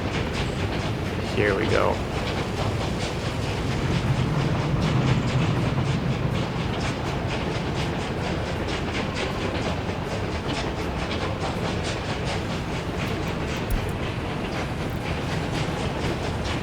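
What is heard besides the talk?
train wagons rolling in Workers and Resources video game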